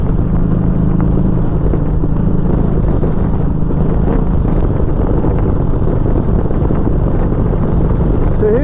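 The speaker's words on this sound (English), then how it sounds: "it's quite windy, so I don't know how the audio is right now" Constant loud roar of wind rushing past at highway speed on a motorcycle with a Memphis Shades Road Warrior fairing, a dense low rumble that never lets up.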